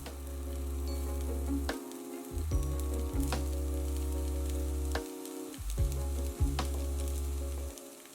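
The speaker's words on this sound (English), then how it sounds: "putting the mushrooms, shallots, and carrots in first and just frying them for about 2 to 3 minutes" Mushrooms, shallots and carrots sizzle steadily in a hot pan, with occasional scraping and stirring knocks breaking the constant frying hiss; no voices.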